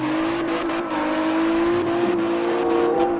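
A car in the CarX Drift Racing 2 video game drifts with the handbrake held, its engine holding a loud, steady whine and note that shifts slightly as the car slides, with no voices.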